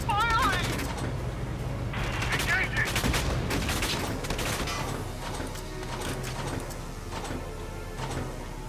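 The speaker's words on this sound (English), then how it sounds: "The enemy's returning fire!" Rapid bursts of enemy gunfire in the tactical war game Valkyria Chronicles 4, dense volleys and fusillades crackling continuously over battle noise, with brief voice callouts mixed in.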